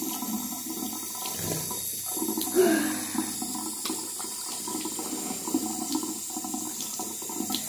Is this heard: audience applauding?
no